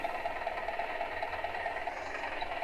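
A tractor engine in a farming simulator game runs with a constant droning, slightly rattly hum at steady loudness throughout, heard alone without speech.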